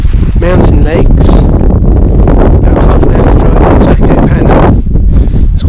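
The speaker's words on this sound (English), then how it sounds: "Quite windy, it's very cold," Strong, cold mountain wind at about 1600 meters, with snow falling, buffets the microphone in loud, roaring gusts, with voices partly audible beneath the rumble.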